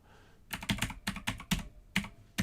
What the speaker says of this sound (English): I've got the mechanical keyboard set up.